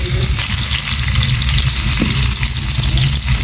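Potatoes dropped into hot mustard oil in a pan fry with a loud, steady sizzle that runs unbroken and close throughout, with no talking over it.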